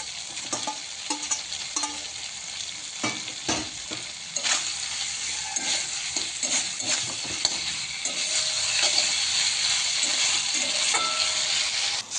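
Chopped tomato is stirred into a spicy mourala fish curry in a pan, with a close sizzle, intermittent spatula scrapes and knocks, and frying that grows louder toward the end.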